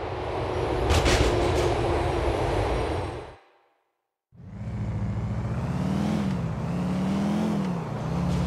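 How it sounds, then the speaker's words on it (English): A train in GTA 4 rumbles past in a steady, loud roar that cuts out into a brief silence, then returns as a deep, droning mechanical rumble with shifting pitch, no voices present. "I think this is where we start following the train"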